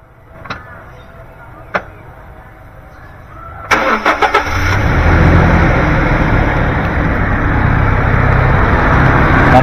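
A few faint clicks, then a 2005 Toyota Kijang Innova petrol engine cranks with quick chugs and catches, settling into a loud, steady running rumble close by.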